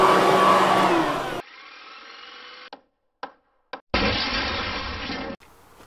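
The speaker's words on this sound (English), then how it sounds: "Our old friend, the Ryobi Vac-Attack leaf vacuum and mulcher" A Ryobi Vac-Attack leaf vacuum and mulcher whines loudly in steady bursts, cutting off abruptly with short gaps between, then starting up again, with a quieter hum near the end.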